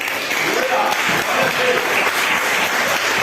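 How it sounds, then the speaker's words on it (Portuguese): A church congregation claps in thanks to the Lord, a steady wash of many hands applauding together, with voices audible beneath the clapping. "com palmas agradecendo ao Senhor"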